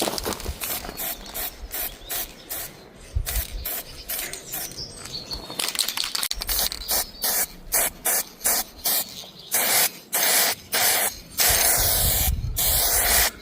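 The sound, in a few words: aerosol spray can spraying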